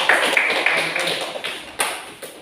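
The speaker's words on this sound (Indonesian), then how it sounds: "Diberikan aplaus untuk kelompok" Brief scattered applause for a presenting group in a classroom, a handful of sharp claps and taps that fade quickly, fairly close.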